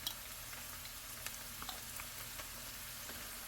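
Garlic, a tablespoon's worth, sizzling in a pan over lowered heat while making Mongolian beef lo mein, a steady close frying hiss with small crackles and no talking.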